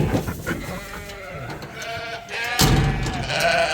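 Suffolk ewe lambs bleat repeatedly while being loaded onto a trailer, several overlapping calls close by, with a louder burst of bleating and rattling toward the end.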